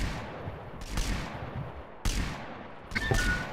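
In a shooting video game, several separate gunshot and explosion bursts go off at moderate volume. Three or four sharp blasts are spread out, and each one trails into rumbling decay.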